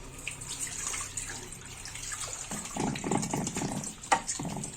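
Fish is rinsed under running tap water for a home-cooked fried-fish meal. A steady, soft splashing flow carries light handling noises and grows a little busier midway, faint and close.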